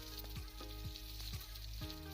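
Garlic and onions sauté in a hot pan for a chopsuey stir-fry, giving a steady, close sizzle and crackle throughout, with a few soft scraping stirs of a utensil at regular intervals.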